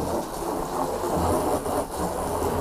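Water runs steadily over a flounder being rinsed during filleting, a constant broadband splashing rush close by, with no talking.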